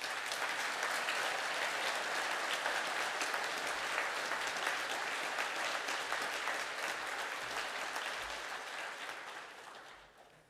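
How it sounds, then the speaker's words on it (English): Graduation ceremony audience applauding, a dense sustained round of clapping from a large crowd that holds steady and then begins to fade at the end. "Can the class now stand, please, for a round of applause?"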